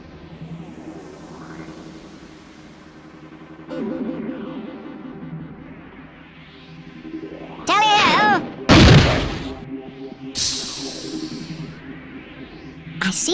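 Grenade explosions in the Worms Armageddon video game: cartoonish whistling sweeps and warbling effects build to a couple of loud, distorted booms, with game sound effects throughout and no talking over them.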